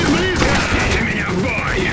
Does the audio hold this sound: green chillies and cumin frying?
no